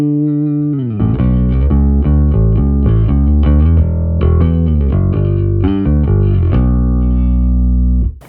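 Clean bass guitar tone from the clean preset of a live rig used on pop songs, run through an effects unit: a steady run of plucked, sustained low notes, loud and alone from start to finish.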